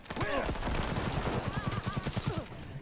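Smart rifle gunfire in Cyberpunk 2077, a rapid stream of evenly spaced close shots sounding as a sustained fusillade, with brief voices mixed in.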